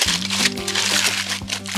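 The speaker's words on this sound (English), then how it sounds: "Fold this up, and I'm gonna have to get some extra foil." Aluminum foil is crumpled and folded around a large package of Cajun shrimp on a griddle, giving close, continuous crinkling with sharp crackles over a low background hum.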